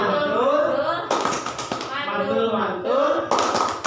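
Classroom voices chant together while a few sharp claps break in, two bold bursts of hands set between stretches of group chanting.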